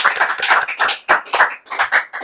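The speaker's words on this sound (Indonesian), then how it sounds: "Boleh tepuk tangan dong." Audience applause after a talk-show guest's appearance, a burst of clapping from a crowd that swells and dips in uneven waves over a couple of seconds, with no voices over it.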